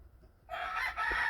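A game hen calls in a straw-filled coop during brooding season, a single short, loud vocal burst that begins abruptly after a half-second of near silence.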